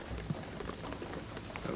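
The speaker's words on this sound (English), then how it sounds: "the rain is gonna flood the town" Steady rain in the video game Shadow of the Tomb Raider as it threatens to flood a town, a continuous even hiss of falling drops with faint low rumbling underneath, with no voices.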